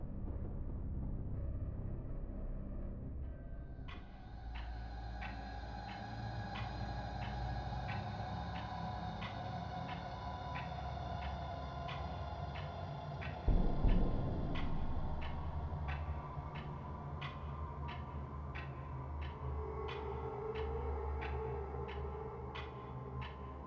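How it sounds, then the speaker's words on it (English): A clock ticks in a slow, regular rhythm over a dark, rumbling ambient drone, with a brief louder whoosh partway through; the ticking sits in the background for about twenty seconds. "I still hear the incessant ticking."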